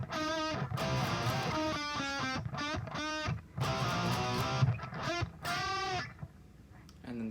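Distorted electric guitar playing a riff: power chords and a full ring-finger bend, loud choppy phrases with short gaps between them.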